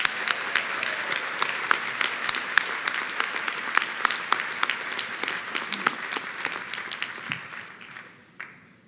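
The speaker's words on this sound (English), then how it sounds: "Please join me in applauding Dr. Rivkin for her 20 years of distinguished service." A commencement crowd at Emmanuel College claps in sustained, dense applause that holds steady for several seconds, then tapers and dies away to near silence with a last stray clap.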